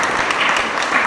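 Dense crowd applause, many hands clapping together in a steady, loud wash.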